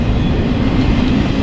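Steady, loud rumbling rail noise of a train rolling past up close, with continuous low clatter and no voices.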